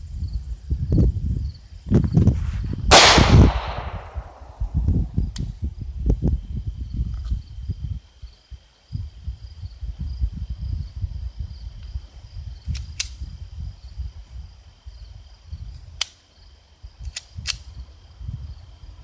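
A very loud handgun firing 130-grain hollow point rounds, with one sharp close shot among rumbling handling noise and a few faint clicks later.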